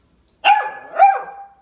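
A Bernese puppy barks twice, close and loud, each bark sharp and yappy and ringing out briefly before the next, with no talking over them.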